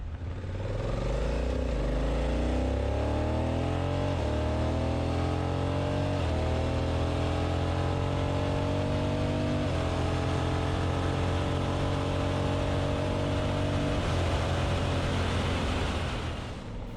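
Motorcycle in S1 riding mode accelerating hard along a closed private road, engine pitch climbing through several gears in rising sweeps, loud and continuous, no talking.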